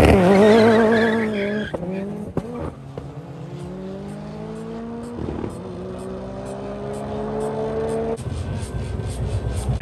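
A car at a drag race event squeals its tyres and revs hard, a loud rising engine whine with screeching rubber that continues steadily to the end.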